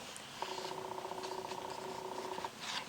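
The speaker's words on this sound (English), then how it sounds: "If you all like the sound of cat purring, hopefully you'll enjoy this." A cat purring steadily close by, a soft continuous rumble that starts just after the beginning and holds for about two seconds before fading, with faint rustling around it.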